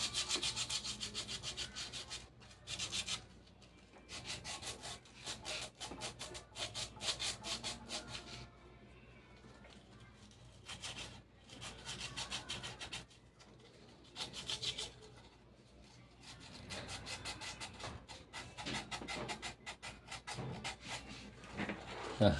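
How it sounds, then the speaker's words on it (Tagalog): Sandpaper rubs back and forth on a rusted, stuck needle bar of a Juki button sewing machine, brisk close scraping strokes in bursts separated by short pauses. "Lihain ko muna to."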